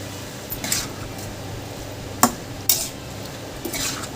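Ridge gourd with onion, garlic, ginger and chilli is stirred in a pan with fish oil, giving a few distinct metallic scrapes and clinks of a utensil against the pan over a low, steady background.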